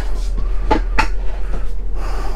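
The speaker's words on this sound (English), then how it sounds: "It's a little lever that you flip back and forth, and then you just push down on the table." A lever on an RV dinette table in a Ford Super C Thor Magnitude RB34 flips and the table is pushed down, giving a few close, loud clacks and knocks in quick succession.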